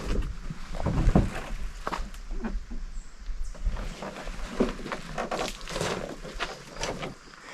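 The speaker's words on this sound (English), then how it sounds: "got a long paddle along Stratton Lake before our next portage" A canoe is paddled along Stratton Lake in eastern Algonquin early on a calm morning, with soft rhythmic paddle strokes and water swishes close by, repeating at an unhurried pace over faint background air.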